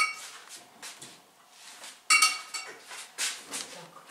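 Metal cutlery and dishes clinking and rattling in a home kitchen as a spoon is picked up, a series of close, light irregular clinks with one sharper clatter halfway through.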